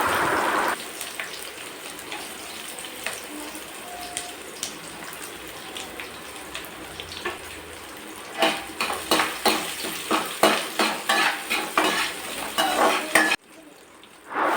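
Small shallots fry in hot oil in a pan, giving a steady sizzle, then a spoon scrapes and stirs in a quick run of rhythmic clinks near the end.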